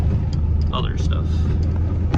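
A 1997 Mustang with a newly fitted idle position sensor is being driven. Its engine and road noise form a constant low rumble from inside the car, while a person talks over it.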